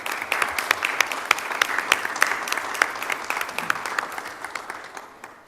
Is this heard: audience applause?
yes